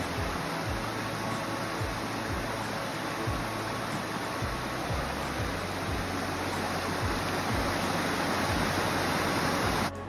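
A creek near a house in California rushing steadily, a dense, continuous broadband wash of flowing water heard up close with no voices.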